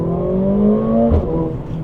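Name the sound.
Mercedes AMG CLA 45 S four-cylinder engine accelerating in race mode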